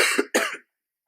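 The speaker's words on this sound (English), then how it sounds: "You need to chill with that cough and stuff" Two quick, harsh coughs close to the listener, one right after the other, followed by silence.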